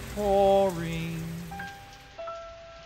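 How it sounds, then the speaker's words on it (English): Steady heavy rain pours down on a Saturday morning, a continuous hiss of drops on a surface, with soft musical tones playing over it. "Saturday morning and the rain is pouring."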